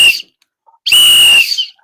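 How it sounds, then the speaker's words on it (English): A whistle is blown in two shrill, piercing blasts, a short one followed by a longer sustained tone, loud and close with silence between them. "But Jackson, you can blow that whistle because now that was the final word."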